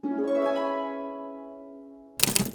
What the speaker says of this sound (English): And last thing, I added this harp.